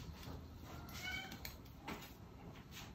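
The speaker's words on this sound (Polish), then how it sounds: "Poza tym, że mój kot miauczy" A domestic cat meows a few times, faint and somewhat distant, in a kitchen where a fish is being filleted with a sharp knife, over a low steady background hum and no talk.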